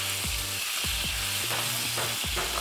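Steak sizzles steadily in melted butter in a pan, a close, even hiss broken by a few soft scraping knocks, with no talking.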